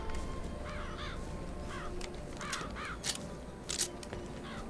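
Crows caw repeatedly in BioShock Infinite, harsh calls arriving in short clusters over a steady ambient game backdrop, with a few sharper bursts near the end.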